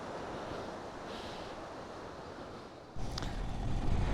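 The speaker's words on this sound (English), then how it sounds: "We stopped to take a look at this stream that was flowing down the mountain." A mountain stream rushes down through a dry valley in Ladakh, giving a steady, broad wash of flowing water with wind noise, growing louder and rougher toward the end.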